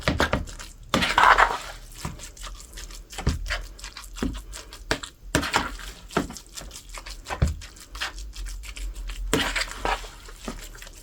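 Tuna patty mixture being mixed with eggs and cheese in a bowl, a steady wet, squelching and scraping rhythm with occasional clinks of utensil against the dish, close up and continuous.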